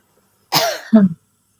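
A single short, harsh cough, close by, breaking into two quick bursts before silence.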